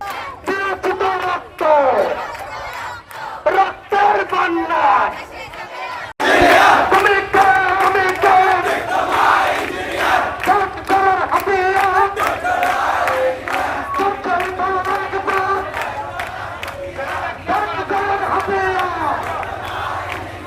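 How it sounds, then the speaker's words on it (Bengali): Polytechnic students at a road blockade protest in Cumilla chant slogans together, loud, close and rhythmic. A single voice leads at first, then the massed crowd joins in unison and keeps chanting strongly. "তারা প্লেকার্ড ও ফেস্টুন হাতে ঘণ্টাব্যাপী স্লোগান দেন"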